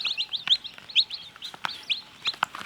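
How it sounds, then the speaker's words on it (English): Tiny baby quail chicks chirping in a brooder alongside newly hatched chickens and goslings, giving high, thin peeping calls in quick irregular bursts, close and fairly clear over a soft background. "Look at how tiny these quail are."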